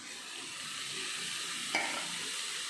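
Steady sizzling of onions and tomatoes frying in oil in a pan, with a brief clink of a utensil stirring partway through.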